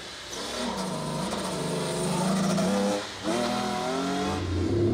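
A car engine revs and accelerates from a race start, its pitch climbing through gears with a brief drop between shifts, steady and fairly close.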